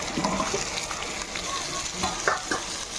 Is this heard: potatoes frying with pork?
yes